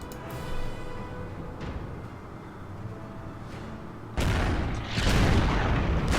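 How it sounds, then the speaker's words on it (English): Enemy artillery firing in the Order of Battle strategy game: heavy booming blasts arrive in the last couple of seconds, loud and broad, after a low rumbling stretch with a few softer thuds. "Enemy artillery fires."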